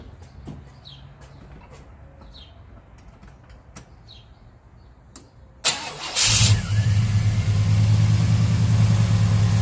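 Chevy 350 V8 cranking over and firing, quiet outdoor ambience with faint birds and clicks first, then a sudden start and a steady loud idle rumble filling the rest.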